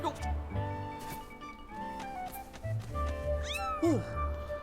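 A cat meows in the video game The Legend of Zelda: Skyward Sword, with short tonal cries over game music and sound effects, including a swooping chime near the end.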